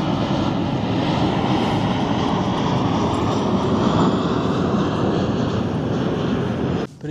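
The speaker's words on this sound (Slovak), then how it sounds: "Za nami pekné lietadlo. Hore. Nevidno, ale počuť" An airplane flies overhead out of sight above a small town square in Erfurt, a loud, steady engine drone that holds at an even level throughout, with no talking heard over it.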